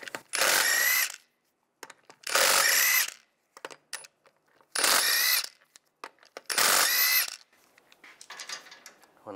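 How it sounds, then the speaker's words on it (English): Power ratchet with a 17 mm socket spinning lug nuts off the passenger front wheel of a 1999–2005 Volkswagen Jetta, four loud whirring bursts, each about a second long, with softer clicks and handling noises between them. "Take the lug nuts off."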